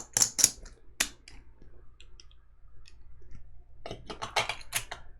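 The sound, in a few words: board game chips being shuffled and sorted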